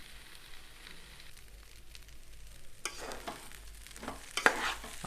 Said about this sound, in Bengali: আমরা ভালোভাবে নেড়ে নিচ্ছি এবং হালকা করে ভালোভাবে ভেজে নিচ্ছি।